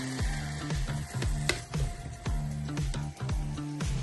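Fresh red peppers hitting a hot paella pan, a soft steady sizzle and fry with repeated low clattering bumps from the pan, close and moderately loud.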